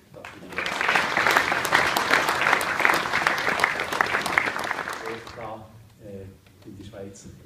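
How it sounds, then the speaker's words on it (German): Audience applause at a meeting of Swiss potato producers: dense, steady clapping from a crowd for about five seconds, then tapering off as a voice begins speaking near the end. "auch einen kleinen Applaus verdient."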